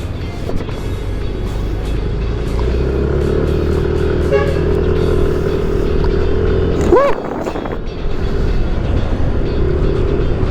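A freshly washed motorcycle rides along a town road near a market, its engine a steady continuous drone with wind and traffic noise, a brief passing whine or horn midway, and a voice talking over it.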